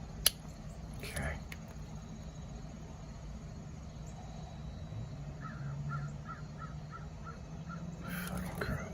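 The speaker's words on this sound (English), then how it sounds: "Fucking crows." Crows caw in a short repeated series of about five calls, fairly distant over steady outdoor background noise, with a couple of sharp clicks and brief sounds earlier; no speech.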